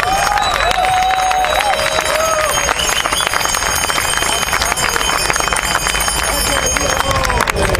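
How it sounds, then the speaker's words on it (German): A large outdoor crowd at a Berlin rally, a vigil gathering, applauds and cheers in a dense, continuous roar that holds loud and steady throughout, with voices mixed into the noise. "Einen Applaus für euch selbst!"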